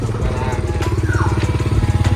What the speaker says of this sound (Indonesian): Nah, ini bayangannya ada motor lewat.